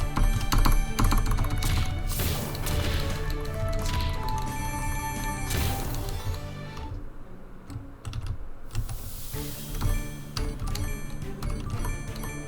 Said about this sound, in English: so you might be hearing some occasional clicks, because I prefer playing on keyboards for games like this.